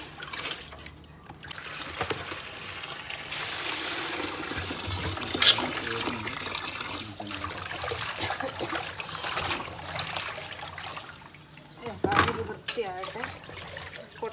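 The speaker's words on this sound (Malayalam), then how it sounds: "ഒന്നുകൂടെ കഴുകി എടുക്കുവാണ്" Water splashes and trickles steadily as taro root is washed by hand in a basin, with a louder slosh near the end; a faint voice is heard in the background.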